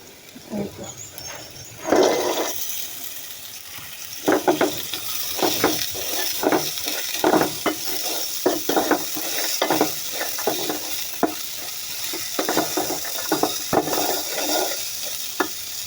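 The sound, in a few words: onion fritters frying in oil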